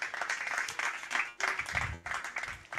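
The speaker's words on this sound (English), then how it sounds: "Give them a massive round of applause." Audience applause for a panel at an Ennovate Lab live-streamed evening event, a dense, steady wash of clapping that surges in waves with brief dips and stays loud throughout, with no voices over it.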